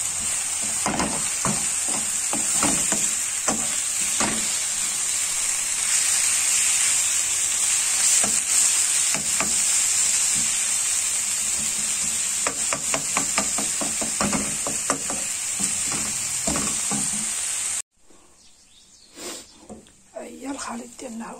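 An onion mixture cooks in oil with a steady close sizzle, punctuated by repeated clicks and taps of stirring; near the end the sizzle drops away, leaving quieter handling noises.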